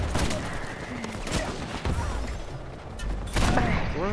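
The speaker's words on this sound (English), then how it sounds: "fucking shotgun" Gunfire in an Uncharted 4 multiplayer match, several sharp blasts among busy game effects and background music, with a louder burst near the end.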